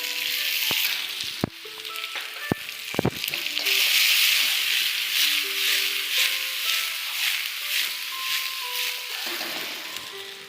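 Diced onion and capsicum sizzle and stir-fry over a high flame in a pan. A continuous bright hiss is broken by a few sharp clinks and scrapes from stirring near the start, and the sizzle stays loud throughout.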